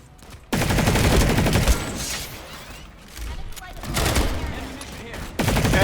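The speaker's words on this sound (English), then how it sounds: "Have NPCs shooting and stuff." Gunfire from non-player soldiers in the Planetside 2 new-player tutorial, dense automatic bursts and fusillades that cut in abruptly, swell and dip, then surge again, loud and close.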